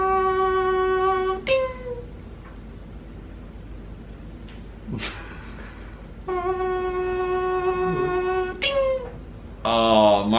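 A person's voice imitates a microwave, giving a steady harmonic hum broken by short beeps and clicks, with a burst of voiced noise at the end, close and fairly loud.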